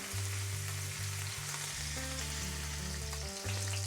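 Sea bass fillets searing in a frying pan for a beurre blanc dish, giving a continuous, even hiss of hot fat, with a steady low electrical hum beneath and no voices.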